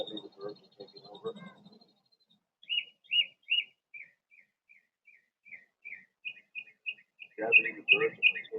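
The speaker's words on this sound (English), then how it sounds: "That means the birds are taking over." A series of short, clear bird chirps repeat in a quick rhythm, with a brief whistle and quiet human voices at the start and end.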